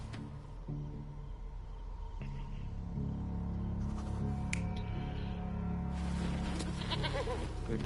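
A goat bleats repeatedly in the video game Sherlock Holmes Chapter One. The nasal calls ring out over a low ambient rumble and scattered game noises.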